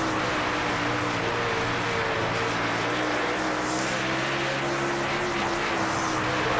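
Super late model race car engine in a dirt track racing video game at Durango park, a steady continuous engine drone with layered harmonic tones holding at one level throughout, no talking over it.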